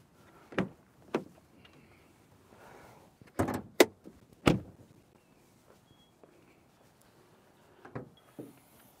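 A few sharp thuds and clunks spread out, including a firm slam of a 2024 Hyundai Kona Limited AWD trunk closing, with quiet pauses between.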